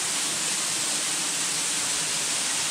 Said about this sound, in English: this is Covell Creek Falls in Washington, United States